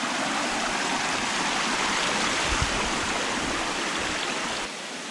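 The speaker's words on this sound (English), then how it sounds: "Looks like we're coming up to our first crossing of the creek that I've been following." A forest creek along a Virginia backpacking trail rushes steadily and loudly, a broad unbroken wash of flowing water close by with no voices.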